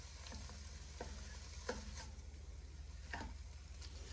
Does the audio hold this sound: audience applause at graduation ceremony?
no